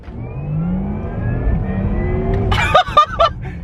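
A Porsche Taycan Turbo electric car accelerates with its electric sport sound switched on, a rising synthetic spaceship-like whine building steadily, then broken by a few sharp simulated gear-shift pulses near the end.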